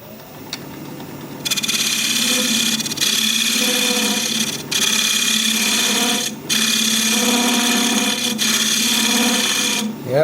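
A wood lathe spins a sycamore vase blank at about 1,000 RPM while it is hollowed out. A loud, close, steady whirring scrape runs throughout, broken by several short pauses.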